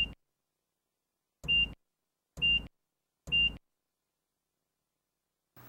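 Short electronic beeps from a Kobelco excavator's warning buzzer, four evenly spaced tones about a second apart with silence between, plus a final cut-off beep.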